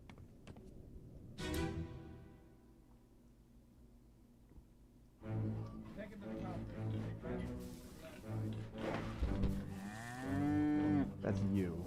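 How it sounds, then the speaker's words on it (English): A cow moos in the video game Return of the Obra Dinn, a loud drawn-out bellow that rises and falls, with game music and other sounds around it. "I want to hear the voice of the cow again"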